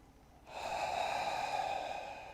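A long, deep inhalation during a yoga session starts abruptly and continues as a steady, airy breath close to the microphone, with no talking.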